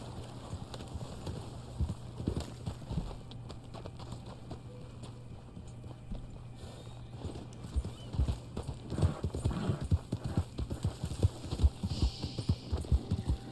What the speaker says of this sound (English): Oh, let me get on my horse here.